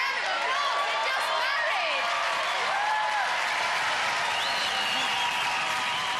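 A television studio audience applauds a newly married couple, a dense, loud, steady wash of clapping and cheering that fills the whole stretch, with a voice talking over it.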